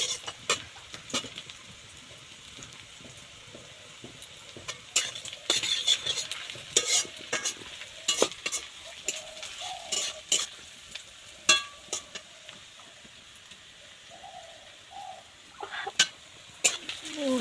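Onion fritters fry in hot oil in a pan, with a soft sizzle under repeated scraping and clinking as a utensil stirs them in irregular bursts.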